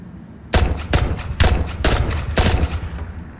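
Gunfire in the VR shooter Crunch Element VR, five loud, close bursts of rapid shots spaced about half a second apart, each ringing briefly with no talk.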